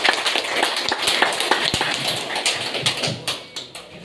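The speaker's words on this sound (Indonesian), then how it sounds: "Tepuk tangan yang meriah." Applause for the village head at a village government end-of-term report meeting, a dense burst of many hands clapping at close range that thins out toward the end, with no speech over it.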